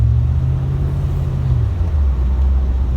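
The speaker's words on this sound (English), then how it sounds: "traffic everywhere" A 1990 Chevrolet Corvette C4 engine rumbles low and close in road traffic, a steady drone that drops in pitch partway through, with no talking.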